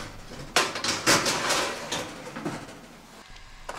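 A baking tray of sliced food slides into an oven, with metallic clanks and a scrape followed by a softer knock as the door closes, close and fairly quiet.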